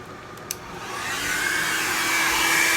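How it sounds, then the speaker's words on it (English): A hair dryer switches on and ramps up to a steady, loud blowing whoosh while drying alcohol ink on an art piece, preceded by a faint click. "Sorry about the dryer noise."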